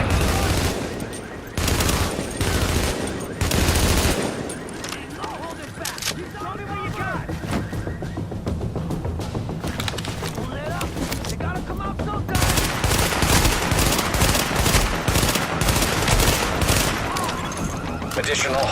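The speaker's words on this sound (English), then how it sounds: "With all that gunfire drawing the Rikers' attention" Sustained automatic gunfire and rapid bursts in Tom Clancy's The Division, a third-person shooter, in Times Square, New York, while fighting Rikers; dense and continuous over game ambience with occasional voice.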